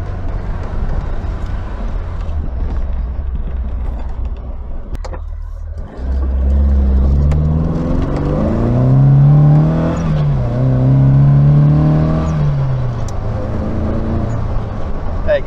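Triumph Dolomite Sprint driving, its engine note rising and falling in pitch as it accelerates through the gears, loud and steady under a constant low road rumble, with no talk.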